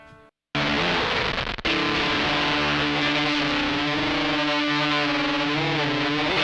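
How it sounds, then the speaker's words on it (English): Thick, buzzy gated fuzz guitar chord through a Super Weirdo pedal that cuts in abruptly, sustaining loud with a wavering, modulated shimmer over several seconds. "the Super Weirdo, which is a really great gated fuzz with an extra bit of spice"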